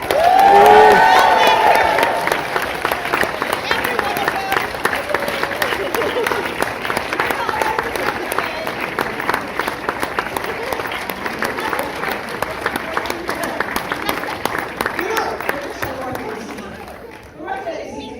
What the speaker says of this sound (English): a cheer when we get it right.